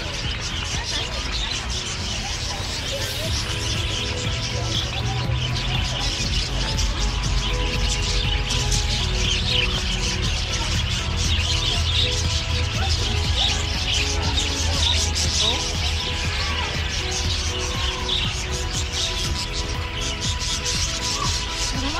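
Birds chirp and tweet through steady outdoor noise at an RV resort on the Emerald Coast, light calls scattered throughout while people talk and move nearby.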